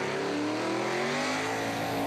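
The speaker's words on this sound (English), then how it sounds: "This is a stout burnout." Loud, sustained car engine held at high revs during a burnout at the Street Machine Summernats 25 car show, throttle wavering steadily with a dense roar and tire noise throughout.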